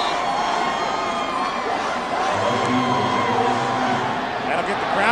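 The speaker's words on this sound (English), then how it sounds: "That'll get the crowd going again." A college football stadium crowd roars during a rivalry game between the Washington Huskies and Washington State Cougars, a broad continuous cheering heard beneath an announcer's commentary.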